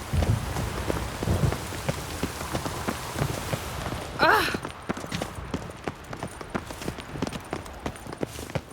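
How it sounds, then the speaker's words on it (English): Steady rain pattering on surfaces in The Witcher 3 video game, with scattered drops and a brief clip-clop of horse hooves; a voice speaks over the rain at times. "it's raining again"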